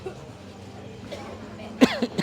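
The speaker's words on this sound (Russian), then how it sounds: "Происходит готовка, но все вокруг стоят и кашляют," People cough at a Thai market amid spicy cooking, with a few sharp coughs close by near the end over a busy background murmur.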